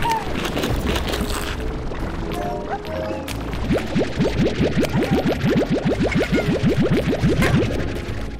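Slimes burst and pop in Slime Rancher, with crashing thuds layered over a quick, regular run of rising chirpy tones and steady game noise.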